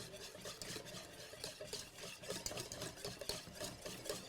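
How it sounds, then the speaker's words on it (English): A whisk stirs heavy cream, melted chocolate and butter together into a ganache for a chocolate pie, giving a steady, continuous scraping and swishing rhythm close up, with no voices over it. "So let's just kind of whisk that together."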